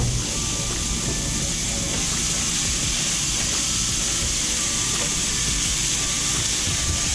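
Garlic and onion sweating in a pan with a little salt give off a steady, bright sizzle and hiss that carries evenly throughout, close and fairly loud.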